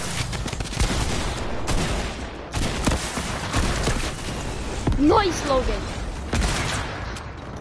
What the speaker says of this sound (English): There's literally rockets everywhere I hear. That's all I hear. Just rockets.